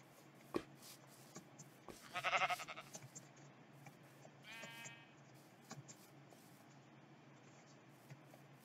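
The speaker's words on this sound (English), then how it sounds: "So I got some sheep over here." Sheep bleat in a survival video game, a short harmonic call in the middle of the clip with a fainter second bleat after it, over quiet game ambience and scattered light shuffling.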